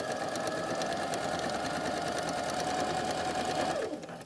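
A sewing machine runs steadily while stitching a double welt pocket, a loud continuous whir with fast regular needle clatter that holds for about four seconds and then winds down to a stop.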